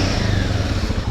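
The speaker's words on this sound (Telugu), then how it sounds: "కొద్దిసేపు ఇంజన్ వార్మ్ చేయాలి." A motorcycle engine idling to warm up after a night soaked in rain, a loud, close, steady low rumble with no talk.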